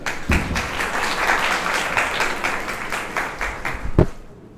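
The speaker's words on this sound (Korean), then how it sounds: "박수로 환영해 주세요" A conference audience applauds to welcome a speaker, a steady wash of many hands clapping at moderate volume that swells briefly and then tapers off toward the end.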